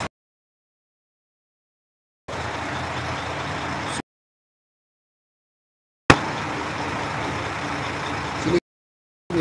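A diesel truck engine runs in Jeddah: a steady, rough, broadband rumble is heard in two sustained stretches separated by complete dropouts.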